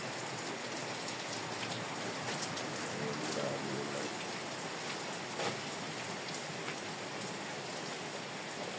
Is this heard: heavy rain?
yes